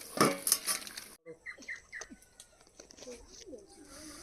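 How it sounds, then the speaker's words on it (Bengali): A lid clatters onto a cooking pan after fried fish go in for a tamarind-leaf sour curry, a loud metallic rattle followed by softer kitchen knocks and faint bird cooing in the background. "এবার দিয়ে দেবো ভেজে রাখা মাছগুলো ঢাকা দিয়ে দেবো"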